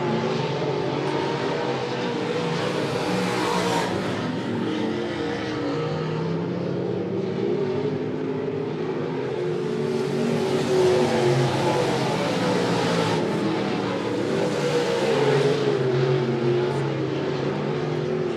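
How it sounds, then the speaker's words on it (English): Race cars at Monett Motor Speedway roaring down the backstretch, a steady, dense engine drone with rising and falling passes heard from a distance throughout. "as they make their way down the backstretch"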